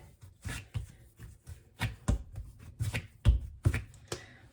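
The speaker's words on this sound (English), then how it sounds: "I'm gonna go ahead and kind of just knead these together a little bit" Soft, close handling of sugar cookie dough as two halves are kneaded together: irregular muffled pats, presses and slaps scattered over a few seconds with no voices.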